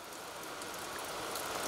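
Rain falling steadily in the Siberian taiga, a soft even hiss of drops that swells slightly louder toward the end, with no voices.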